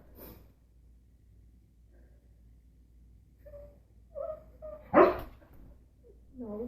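A husky gives a few soft whines and snorts, then one sharp bark near the end of the quiet stretch, followed by more small vocal noises.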